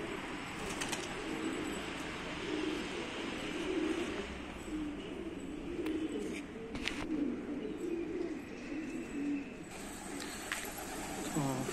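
Pigeons coo in soft, repeated low calls over outdoor ambience, with a few brief flutters and scattered chirps nearby.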